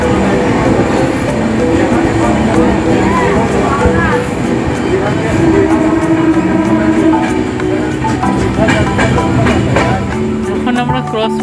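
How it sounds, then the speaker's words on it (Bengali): An express train runs between Digha and Howrah, heard on board as it passes a station: loud continuous rail rumble with rhythmic wheel clatter and occasional squeals throughout. "এখন আমাদের ট্রেন ক্রস করছে বা পাস করছে দাসনগর।"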